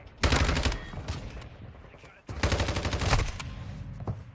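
Burst of gunfire in Modern Warfare 2, including a Signal 50 sniper rifle shot fired from the hip: two loud clusters of sharp cracking shots separated by a brief lull, with a voice speaking partway through.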